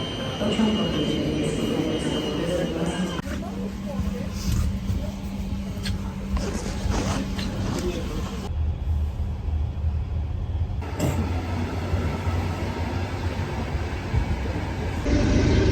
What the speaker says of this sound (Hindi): तो ट्रेन मेरी आ चुकी है और अब मैं ट्रेन बोर्ड करने जा रहा हूँ।